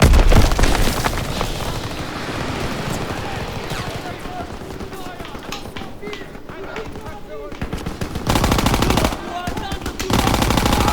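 Video game combat: grenade explosions mixed with rapid machine-gun bursts and scattered gunshots, dense and loud throughout, with players talking over the chaos.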